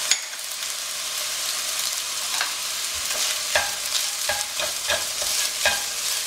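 Sautéed rice being stirred in a pan just after a splash of dark soy sauce goes in, a steady sizzle beneath repeated close scraping strokes of the spatula, with no one talking.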